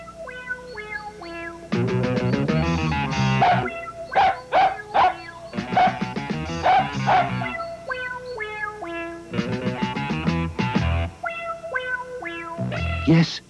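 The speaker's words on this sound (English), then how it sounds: "What a beautiful dog, said King Rollo" Dog in a children's cartoon barking in short bursts and yips, several clustered barks repeating close and loud over background music, with a narrator speaking in between.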